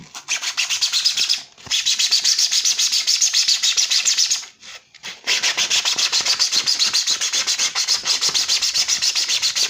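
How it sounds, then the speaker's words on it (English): Hand sanding with 240 grit sandpaper, close rapid back-and-forth rasping strokes in a steady rhythm, broken by two brief pauses. "So when you sand, use your 240."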